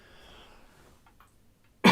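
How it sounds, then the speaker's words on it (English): A single sharp cough bursts out close and loud at the very end, after near-silence with a few faint clicks. "I know it's horrible to hear people cough."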